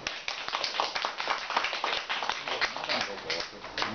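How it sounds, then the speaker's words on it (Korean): A small audience at a lecture on mental illness claps briefly, with crisp individual hand claps close to the microphone and voices mixed in underneath. "박수."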